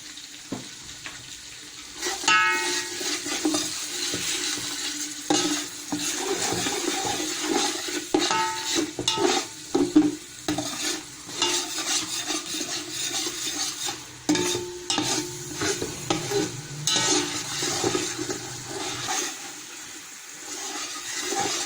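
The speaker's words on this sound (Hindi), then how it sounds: "ये हमारा मसाला भुन चुका है।" Spiced masala with ground red chilli and salt sizzles and fries in a pan for Arabic chicken mandi rice, with steady scraping stir strokes and clinks of the spoon running throughout, loud and close, no talking.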